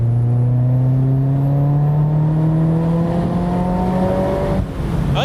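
A turbocharged BBR Mazda MX-5 engine revs steadily toward 6,000 RPM, its loud droning pitch climbing smoothly for about five seconds before a brief dip as it lifts off.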